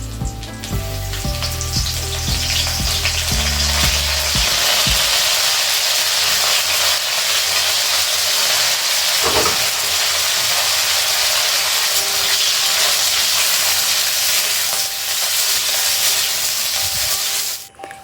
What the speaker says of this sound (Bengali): একইভাবে পটলগুলো ভেজে নিচ্ছি।